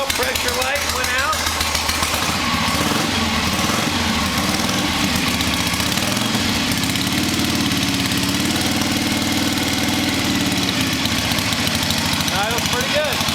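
A 1976 Harley Davidson XLH Bicentennial motorcycle engine runs steadily up close, with a loud, continuous rumbling idle throughout while someone talks over it.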